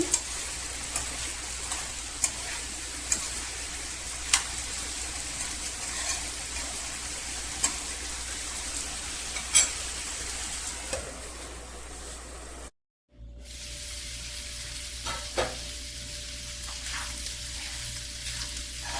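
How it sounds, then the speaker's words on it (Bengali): A vegetable bhaji fries in a pan, sizzling steadily and close by, with occasional scrapes and taps as it is stirred now and then; the sound cuts out briefly near the end, then resumes. "মাঝে মাঝে ডাকনাটা উঠিয়ে নেড়ে ছেড়ে বাজিটা আমি করে নেব"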